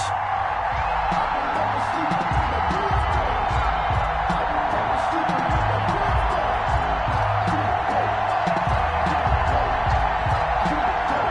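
A sold-out crowd in a Buffalo stadium keeps up a steady, loud roar in a football video game, Bills versus Ravens, with the noise holding even throughout and a faint murmur of voices underneath.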